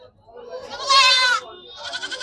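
A goat bleats loudly nearby at the Saturday goat market in Ettayapuram, Thoothukudi, followed by a shorter, quieter bleat over a low background of market noise.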